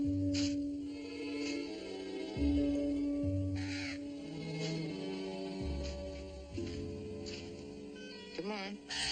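A crow caws several times, in short rasping bursts spread through a Western TV scene in Virginia City, heard under and between men's speech and a low background score.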